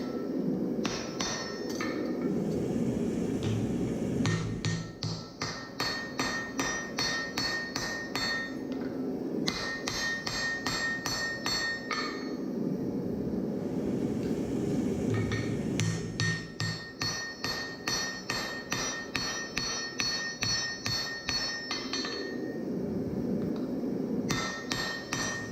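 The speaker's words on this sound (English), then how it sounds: "Very small, light taps just to get it forge welded." Light, rapid hammer taps on a hot Damascus axe bit being forge welded to the axe body, in steady ringing bursts separated by short pauses, close and loud with a low roaring forge underneath.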